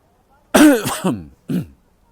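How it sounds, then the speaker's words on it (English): A single person clears their throat up close, two gravelly rasps followed by a short final grunt, then silence. "just clear my throat there"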